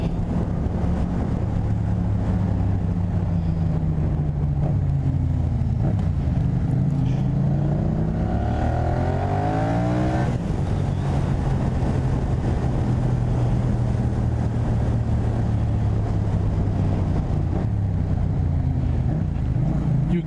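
Continuous roar of a motorcycle being ridden at speed, a Yamaha MT07 or Kawasaki ZX6R, with steady engine drone, heavy wind rush and a rising-falling pitch sweep midway as the rider shifts through the revs.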